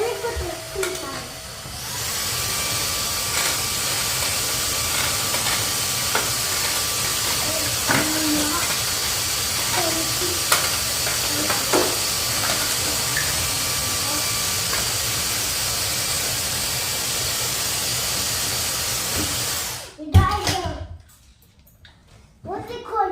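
A new Hoover vacuum cleaner runs with a loud, steady airy hiss and whine for about twenty seconds, then cuts off abruptly, followed by brief clatter and quiet.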